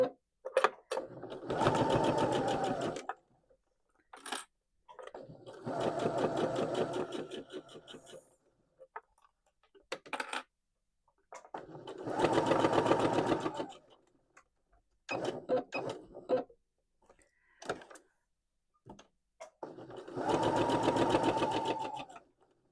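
Sewing machine stitching a lavender pouch with a 1/4 inch seam allowance, rapid rhythmic mechanical clatter in several separate bursts of a few seconds each, with quiet gaps and brief clicks between them.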